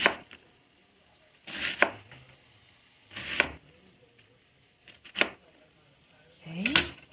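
A knife thinly slices cabbage on a board in five distinct, crisp chops spaced about a second and a half apart. Each cut is close and sharp, with near-quiet pauses between strokes.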